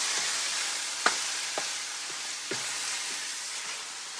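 Crushed Roma tomatoes are stirred into a sizzling pan mixture, a soft steady hiss under a few scattered scrapes of a utensil against the pan, close by and without speech.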